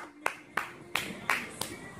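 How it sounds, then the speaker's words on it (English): Hands clap five times at a children's dancing show, sharp, evenly spaced claps close by against a quiet room. "let's clap our hands"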